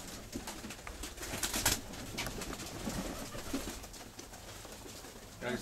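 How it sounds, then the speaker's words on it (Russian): Pigeons kept by a Russian fancier coo outdoors, with soft repeated throaty calls under steady broadband wind and ambient noise, fairly close and continuous. "Ну, лови моего голуба."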